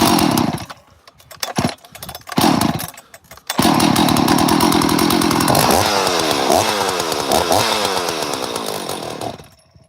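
A 288 chainsaw running on a replacement 61 carburetor after repair: a few sputtering bursts and pauses, then the engine catches and runs loud and steady, with some rev changes, before cutting off.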